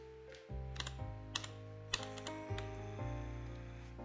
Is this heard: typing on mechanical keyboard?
yes